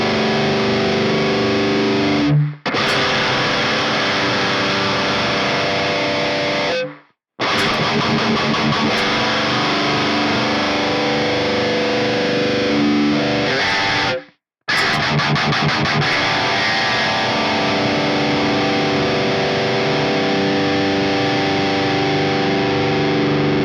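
An electric guitar played through an MXR 10 Band EQ pedal with its bands boosted too far produces a harsh, heavily distorted, buzzy tone, sustained chords broken by three brief silent gaps.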